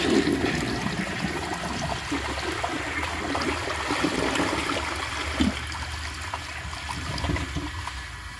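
A 1949 Alamo Pottery toilet flushes a dish towel: a continuous rushing, gurgling swirl of water that holds steady for several seconds. It is close but moderately quiet, with no talking.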